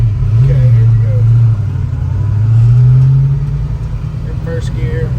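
A 1966 Shelby GT350 with a four-speed manual pulls away in first gear, its deep engine rumble rising in a strong rev from inside the car, easing, then building again, while someone talks over it.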